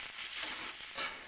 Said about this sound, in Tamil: 1 நிமிஷத்துக்கு இந்த காய்ங்க எல்லாத்தையும் நல்லா வதக்கி விட்டுடலாம்.